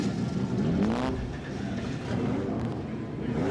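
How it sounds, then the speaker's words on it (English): V8 touring cars, Nissans and BMWs fire up together on the starting grid at Mount Panorama for the 1992 Bathurst 1000, a dense roar of engines revving and rising in pitch. "those V8s and Nissans and BMWs explode into life here on the starting grid at Mount Panorama"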